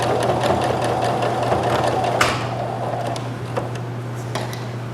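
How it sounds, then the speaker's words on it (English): Sewing machine running steadily while edge stitching a sweatshirt pocket, a continuous close motor hum with rapid needle rhythm and a few light clicks, no talking. "So now we've got just this nice edge stitch here, which is going to hold our fabric in place."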